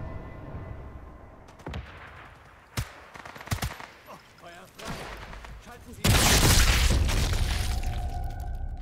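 Enemy gunfire in the video game Sniper Elite 5: scattered sharp shots through the first half, then a loud, dense burst of firing that fills the last few seconds. A voice is heard faintly in between.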